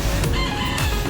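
A rooster crows loudly and close, in a single brief call, among chickens of an unusual-looking breed.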